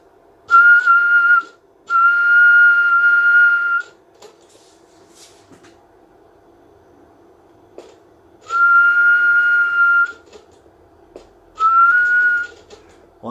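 Whistled tones sent through an RCI 2970 CB radio on USB, heard as four steady, loud whistle bursts of one to two seconds each, with short gaps between them and a longer quiet stretch of faint background hiss in the middle.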